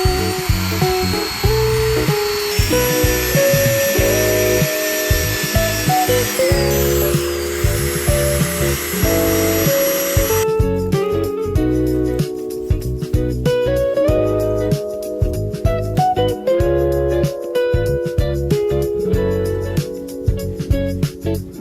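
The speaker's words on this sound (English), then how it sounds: "I'm gonna go ahead and wire wheel it down and get some rust converter on the rusty places" A wire wheel on a power tool scrubs rust from an old lawnmower, a loud steady grinding whine with rhythmic scraping pulses running throughout, shifting in tone partway as contact with the metal changes.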